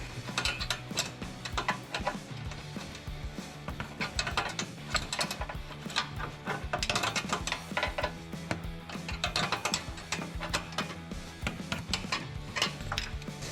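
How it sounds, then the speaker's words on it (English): A 5/8 inch wrench ratchets a bolt tight on a Rugged Ridge Arcus front bumper for a Jeep Gladiator JT, rapid irregular clicking bursts continuing close and steady throughout. "We're going to be using a 16mm wrench, or in our case, a 5/8 inch wrench, which are pretty much interchangeable, and tightening this bolt here"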